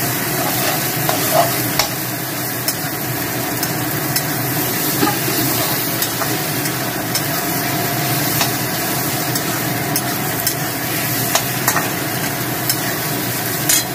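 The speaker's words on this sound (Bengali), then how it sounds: "এবার মশলাটাকে ভালো করে কষিয়ে নেব।" Spice masala with coriander-cumin powder sautéing for a vegetarian jackfruit curry, a loud, steady sizzle with scattered ticks of stirring throughout.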